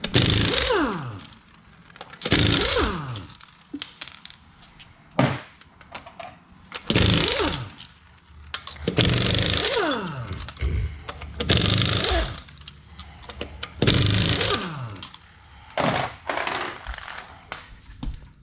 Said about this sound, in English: we're gonna take our 7/8 and remove the lug nuts.